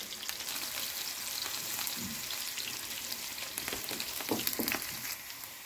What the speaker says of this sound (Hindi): ये आधा मेरे पास प्याज है बारीक कटा हुआ, ये मैं तड़के के लिए डाल दे रही हूँ घी में,